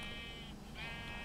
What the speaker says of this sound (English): There's a sheep in there.